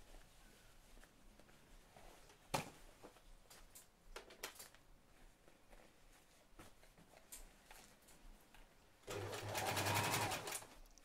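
A sewing machine hemming the leg of a pair of jeans, heard up close as faint stitching runs and handling noises before one loud, steady burst of rapid stitching near the end.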